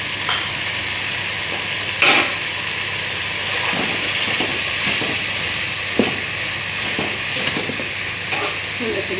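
Chicken fries in a pan with moringa flowers, giving a steady loud sizzle and hiss, broken by occasional clattering stirs and scrapes of a utensil, with no voices.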